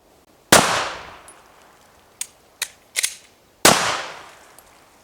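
Handgun shots after a stovepipe malfunction is cleared: two sharp, loud reports with ringing decay, separated by quick metallic clicks and clacks from tapping and racking the slide.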